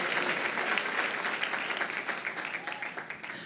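A church congregation claps in sustained applause at a Quadrangular service, a dense, steady patter that stays fairly even before thinning slightly toward the end.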